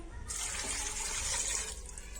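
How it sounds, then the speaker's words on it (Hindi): Water pours in a steady splashing stream into a cooking pot holding mutton, cardamom, cloves and cinnamon for korma, starting abruptly and cutting off after about a second and a half. "पानी ऐड कर रही हूं।"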